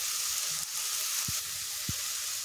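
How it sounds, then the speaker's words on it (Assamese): Onions frying with chili paste and turmeric give a steady bright sizzle in a pan, with a couple of soft low knocks from stirring. "পিঁয়াজখিনি ৰঙা হোৱাতে মই এনেদৰে হালধি দি দিলোঁ"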